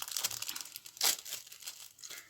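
A small plastic bag crinkles and rustles up close as small items are put back into it, with soft crackling throughout and one sharper crunch in the middle.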